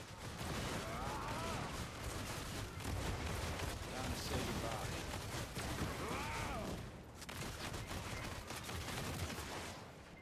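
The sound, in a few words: gunfire from a gun class in a video game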